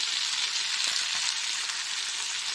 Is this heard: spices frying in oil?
yes